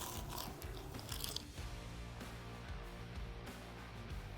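Crispy grilled chicken wings from a Ninja Flex Flame grill are bitten into, with crunchy crackles up close at first, then quieter chewing.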